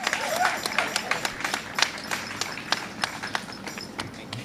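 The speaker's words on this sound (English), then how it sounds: "These people deserve a big round of applause" Applause from an audience at a Leonard Peltier community event in Los Angeles, heard as scattered, uneven claps that seem to come from a modest crowd and stay moderately loud throughout.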